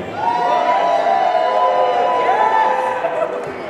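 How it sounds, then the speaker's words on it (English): A convention crowd at a cosplay final cheers and screams loudly and steadily, high-pitched shouting and whoops blending into a continuous roar that fades slightly at the end. "so we need your loudest cheer"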